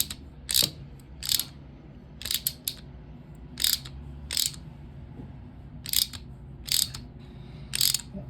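A wrench tightens a rivet nut, producing a series of sharp metallic ratcheting clicks in short bursts, about a dozen spaced irregularly over a low background.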